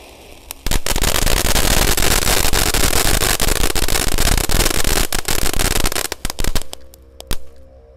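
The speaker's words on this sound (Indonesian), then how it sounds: "menyalakan banyak sekali mercon dan petasan malam ini" A long, dense barrage of jumbo firecrackers and fireworks crackles and pops at night, loud and continuous for several seconds before thinning into scattered bangs.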